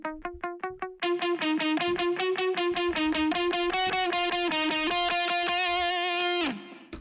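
Electric guitar run through the Pod Farm 2 amp-simulator plugin, playing a few separate distorted picked notes and then a fast, steady stream of repeated driven notes and chords that ends with a short fade.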